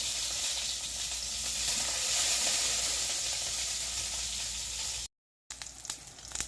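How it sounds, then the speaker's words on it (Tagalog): Eggplant frying in hot oil, a loud continuous crackling sizzle close up, broken by a brief silent gap before the spitting resumes more unevenly, no voices. "I'm cooking my eggplant"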